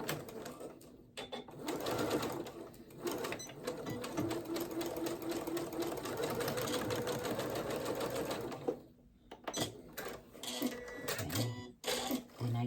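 A sewing machine stitches the ends of pajama pants sewn from a Butterick B5792 pattern, running in long, loud, steady whirring bursts with brief pauses between them.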